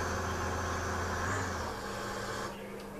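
Combine harvester and tractor engines in the farming game Farming Simulator 2013, a steady, droning motor hum that holds loud and even, then eases to a lower, quieter idle near the end.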